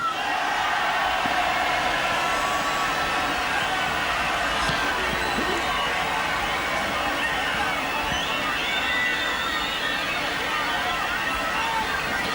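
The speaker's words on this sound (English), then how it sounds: "The crowd were cheering there at the big screen." Rugby league stadium crowd at a 1997 World Club Challenge match between Leeds Rhinos and Adelaide Rams, cheering and murmuring as a broad, steady roar beneath a commentator talking.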